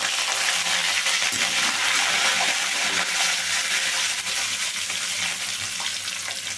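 Dry red chillies and curry leaves crackle in hot oil for a puffed rice upma, a close, bright, continuous spitting sizzle without any talking.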